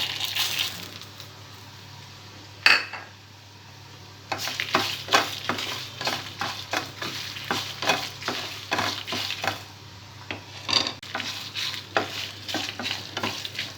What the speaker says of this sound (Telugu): మిరపకాయలు కొద్దిగా ఫ్రై అయిన తర్వాత ధనియాలు వేసుకోవాలి.